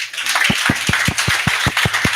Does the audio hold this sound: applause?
yes